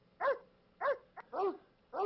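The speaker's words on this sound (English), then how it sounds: "that's very cool to have dogs barking and Freud talking and all that stuff." A dog barking sound effect played back on a computer website: four short barks spaced about half a second apart, clear and moderately loud with no talk.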